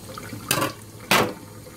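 Tap water runs over a black drum fish fillet left in a sink to wash out blood, with two louder splashing bursts as the stream strikes the flesh against a steady low trickle.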